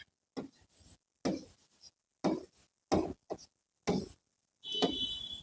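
Chalk or marker writing numbers on a board in a maths lesson, short bursts of scratchy strokes separated by pauses, close and fairly quiet.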